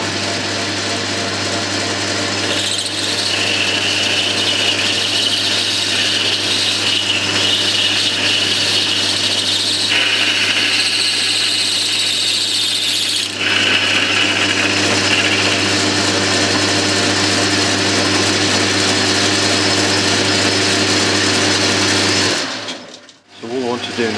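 A metal lathe takes a facing cut across a workpiece face in a model engineering setting, giving a steady, loud machining drone with a continuous hum and a scraping rasp that shifts partway through, ending in a brief drop near the end.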